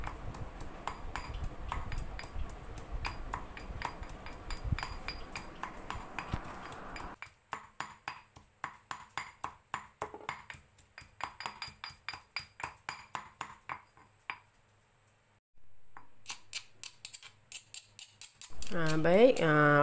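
Ginger is pounded in a mortar and pestle until fine for turmeric fried beef. Talk comes first, then a fast, even run of sharp pestle strikes and a brief pause before more knocks.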